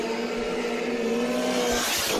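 Race cars roar past on a race track, with a steady, loud engine drone that holds throughout and a slight change in pitch as they go by.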